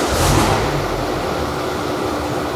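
A BMW 535d diesel engine catches and runs, a loud close rumble swelling briefly at the start and then settling into a steady drone.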